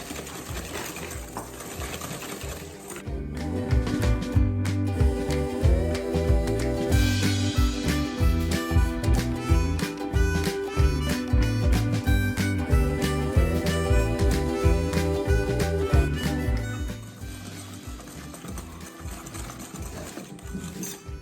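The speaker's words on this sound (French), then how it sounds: "On va bien fouetter." Egg yolks beaten with sugar and vanilla sugar for a yogurt cake give a steady, rapid mechanical whirring that starts about three seconds in and runs evenly until near the end, with no talking.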